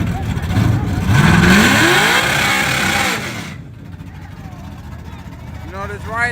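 Street race cars, a Trans Am against an LS-engined Nova, rev loudly with a rising engine sweep. The engines fade after a few seconds, and a crowd talks over the noise.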